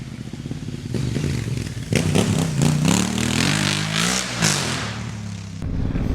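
A 2016 Honda Africa Twin motorcycle engine idles and revs as the throttle is worked, rising and falling in steady swells at close range with no voices.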